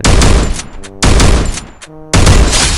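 Winchester rifle shots in the video game Free Fire: three loud, booming reports about a second apart, each with a sharp attack and short fading tail, with no speech.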